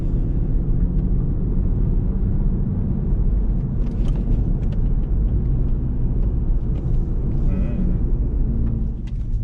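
Inside a Lexus IS300 with a 2JZ engine and 5-speed manual, a continuous engine rumble drones steadily as the car slows with a rev-matched downshift, with road noise and occasional voices underneath.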